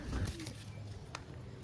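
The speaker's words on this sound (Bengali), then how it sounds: "খুব সুন্দর কোয়ালিটির পায়রা" Pigeons of a fine breed, including a male, give a low soft coo at close range, brief and muffled with faint rustling.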